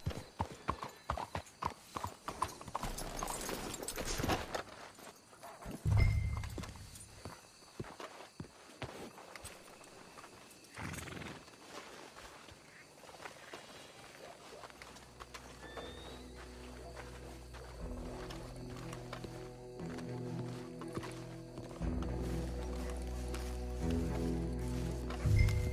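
Horse hooves clip-clop steadily at a walk in Red Dead Redemption 2, with a whinny and snorting, over a low droning background that swells later.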